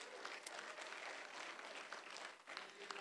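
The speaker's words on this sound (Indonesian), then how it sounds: "Beri tepuk tangan semuanya." Audience applauding at the installation ceremony of the Batam city branch board of the Indonesian tour guide association (HPI), a dense, steady wash of clapping held for the whole stretch with faint crowd noise beneath.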